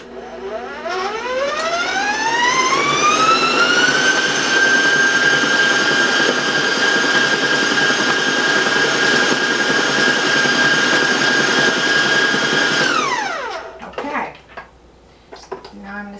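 An electric mixer fitted with a paddle beats buttercream frosting at high speed. Its loud motor whine climbs in pitch over a few seconds, holds steady, then cuts off, followed by faint clatter.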